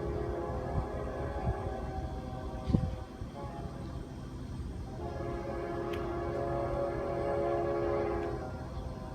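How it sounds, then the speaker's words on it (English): Two freight trains rolling into Fostoria, Ohio, a steady low rumble of railcars and engines with tonal horn-like hums. A brief thump stands out partway through, and the train noise swells again later in the stretch. "Alright, we got 2 trains coming in."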